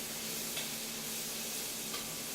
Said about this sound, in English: Little stir over here. Onions are caramelizing nicely.